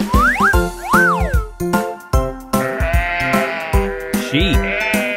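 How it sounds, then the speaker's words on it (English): Sheep bleat repeatedly in a children's learning clip, a series of loud, close, wavering baa calls with short gaps between them, alone without talking. "Sheep."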